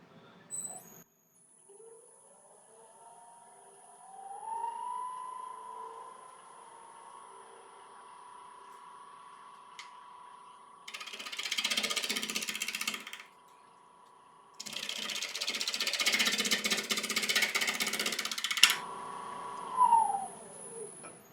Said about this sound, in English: So I'm just going to start off with a 10mm ball gouge.